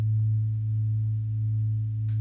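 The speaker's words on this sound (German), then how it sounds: "Vielleicht einfach den Wavetable Synthesizer. Der gibt ja auch ein stehendes Signal raus." A wavetable synthesizer module holds a steady, unchanging drone, a constant pitched tone running loud and alone, with a faint brief noisy flick near the end.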